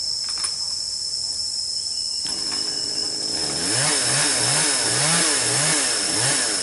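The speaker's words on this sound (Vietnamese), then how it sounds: "Rồi lấy cưa cưa tiếp." A chainsaw engine revs up and cuts steadily through a eucalyptus tree on a mountainside, its pitch rising and dipping rhythmically, over a constant high insect buzz.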